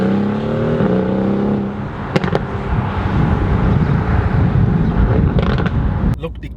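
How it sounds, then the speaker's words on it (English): Deep growling Mercedes-AMG GT R engine and exhaust, revving with sharp crackles and pops, loud and close, with a voice speaking briefly. "It's a deep, growly, angry, racy AMG, you know, engine noise and exhaust noise"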